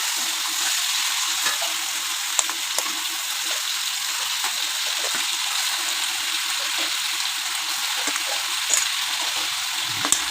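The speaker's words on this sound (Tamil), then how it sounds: "இந்த 2 கிலோ சிக்கனையும் அப்படியே உள்ளே போட்டு அப்படியே லேசாக ஒரு பரட்டி" Two kilograms of chicken pieces sizzle and fry steadily in a pot of hot oil, a dense continuous hiss with occasional soft clinks of stirring, with no talking.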